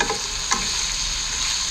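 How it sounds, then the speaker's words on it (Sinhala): Fried ingredients get stirred together with tinned fish in a pan, a steady sizzle broken by a few scraping and clinking strokes of the spoon, close and clear with no talking. "දැන් මේ බැදුම් ටික හොඳට සමන් එකත් එක්ක එකතු වෙන කලවම් කරගන්න ඕනේ."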